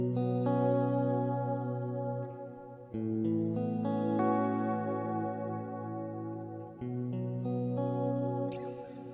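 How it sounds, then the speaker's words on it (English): A Boss RV6 reverb pedal washes sustained guitar chords in lush, centred reverb, with notes ringing and overlapping as new strums arrive every few seconds, no voices present. "What's happening with this particular pedal, all of the reverb is concentrated at the centre of the stereo field."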